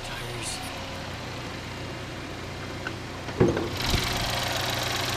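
A 2013 Buick Verano's 2.4 liter engine idles with a steady, low hum throughout, joined by a brief thump and a louder rise of engine noise near the end.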